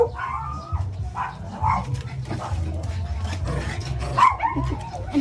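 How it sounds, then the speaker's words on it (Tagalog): Many dogs bark and yip close by outdoors, overlapping one another in an irregular, noisy chorus with a few sharper yelps near the end, while people talk underneath. "Guys, ang daming aso dito."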